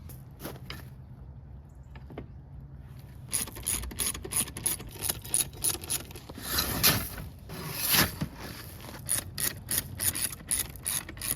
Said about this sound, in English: And you just bolt it right back in, just like the original one was.